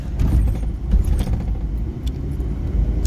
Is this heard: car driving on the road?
yes